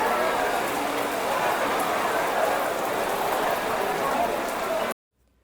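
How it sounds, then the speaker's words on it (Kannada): Heavy rain pours steadily near a temple during a village jatre festival, a dense, even hiss that runs without a break for about five seconds and then cuts off abruptly. "ಮಳೆ ಜೋರಾಗಿ ಬರ್ತಾ ಇದೆ"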